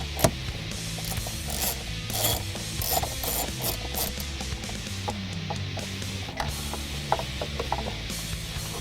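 Steady ratchet clicking while bolts are backed out of the ABS reverse light trim panel on a 2015-2017 Mustang GT Premium, close and continuous with repeated short mechanical ticks and brief metallic taps.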